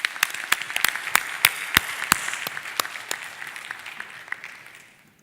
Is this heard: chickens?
no